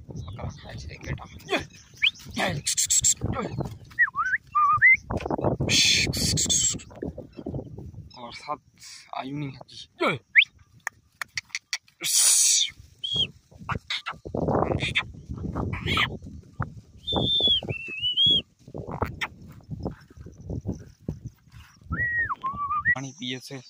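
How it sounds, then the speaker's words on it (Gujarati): A herder whistles short, sliding calls to bring sheep and goats to a water tank beside a millet field, with talk and scattered animal sounds between the whistles. "આ પાણી માટે અમે એમ બોલાવીએ ઘેટા બકરાને."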